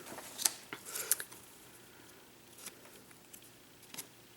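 Scissors snip through card for a baby card project, a few quick close crisp cuts early on followed by quieter handling rustles, with no talking.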